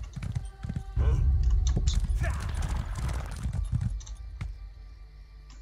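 Rhythmic hoof clip-clops of a horse in the video game Elder Scrolls Online, fairly close, with a brief spoken word and some game-like background sounds.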